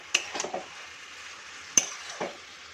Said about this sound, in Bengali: ভালো করে কষিয়ে নেব বাঁধাকপি।